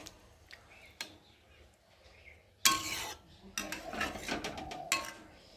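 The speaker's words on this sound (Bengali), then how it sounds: "যে মশলাগুলো কড়ার গায়ে লেগে আছে সেগুলো খুন্তি দিয়ে একটু ঝোলের সাথে নামিয়ে দিলাম।" A spatula scrapes and stirs mustard fish curry with eggplant and potato in a wok, giving sparse metallic clinks and taps, then a busier stretch of scraping and knocking, close and fairly quiet.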